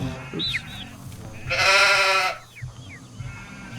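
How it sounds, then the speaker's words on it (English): A creature in the video game CHKN, built with a sheep mouth, lets out one drawn-out wavering sheep bleat in the middle, loud and clear over a low background hum, with fainter cries before and after. "now all I can hear is the cries of the herd of sheep I've destroyed."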